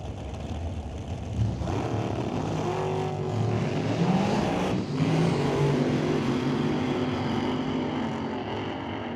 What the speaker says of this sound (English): So blown alcohol combo over there in the right lane.